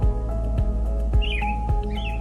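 American robin singing, short whistled phrases rising and falling over a steady low background hum with periodic low thumps, fairly close and clear.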